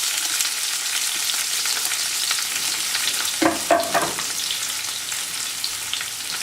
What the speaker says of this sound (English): now we'll add the onion